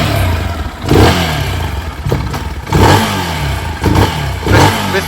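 A Geon X-Road 250 motorcycle engine fitted with a PZ30 carburetor and accelerator pump revs loudly and close in four sharp bursts, each dropping back to a rough idle.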